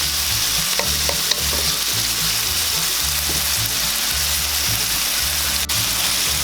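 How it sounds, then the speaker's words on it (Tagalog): Chopped tomatoes sautéing in a hot pan for an ampalaya and tofu dish, a steady loud sizzle with faint stirring scrapes and clicks running throughout, no voices. "Lulutuin lang po natin ng konti yung ating kamatis."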